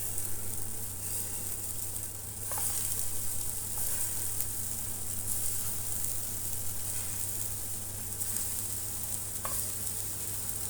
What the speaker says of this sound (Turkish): Isındıktan sonra şöyle her tarafını güzel bir şekilde mühürleyeceğim.